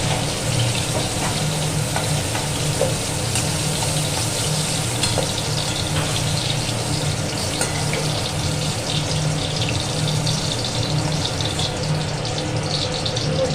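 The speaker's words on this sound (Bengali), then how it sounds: "করে লাল লাল করে ভেজে নিলাম" Vegetable pieces fry in oil until reddish, a continuous close crackling sizzle with a watery bubbling texture and occasional stirring clinks, steady and fairly loud throughout.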